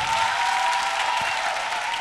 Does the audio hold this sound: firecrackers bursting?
no